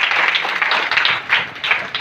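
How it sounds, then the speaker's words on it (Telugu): A church congregation at a Christmas and anniversary service claps loudly, a dense burst of applause lasting about two seconds with no talking. "గట్టిగా చప్పట్లు కొట్టి"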